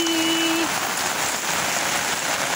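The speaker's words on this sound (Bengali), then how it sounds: "কি হারে বৃষ্টি" Heavy rain falling in Malda town, a steady dense patter on surfaces close by, with a brief tonal hum at the start fading into continuous downpour.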